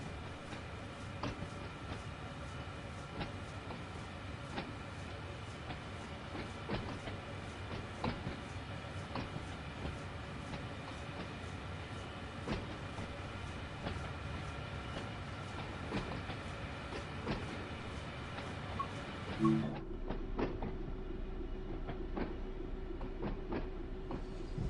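On the East Coastway route in Train Sim World 6, a train runs with a continuous rumble and regular clicking over the rails. The sound shifts and eases near the end as the train slows.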